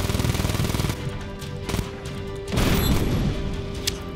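Rapid bursts of gunfire strike the player character in Just Cause 3, a loud, dense volley of shots with crashing impacts that swells again near the end, no voices.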